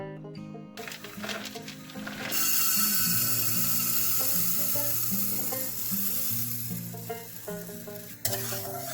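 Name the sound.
mung dal roasting in a pan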